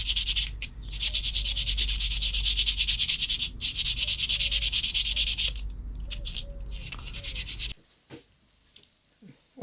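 Rapid back-and-forth scratching of sandpaper on a homemade squid-jig lure (egi), a rhythmic rasping that runs for several seconds, pauses briefly, then stops into quiet.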